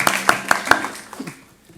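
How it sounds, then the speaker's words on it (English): A handful of people at a school committee meeting clap for Pat. A short run of sharp, evenly spaced claps starts close and clear, then thins out and fades within two seconds. "Let's give her a round of applause."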